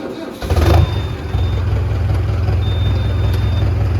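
A cold tractor engine with a weak battery cranks and catches in winter cold, then settles into a steady, rough low idle that continues loudly to the end.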